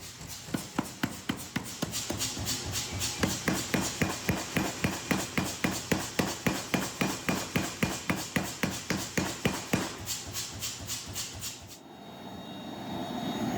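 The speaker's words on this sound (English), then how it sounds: "Giving the blade blank one final pass under the power hammer to make sure it's dead straight and completely uniform in thickness across the entire length." A power hammer makes a final pass over a Damascus steel blade blank forged from car shock absorbers, landing rapid, evenly spaced metallic blows in a long steady rhythm before cutting off abruptly, leaving faint background hum.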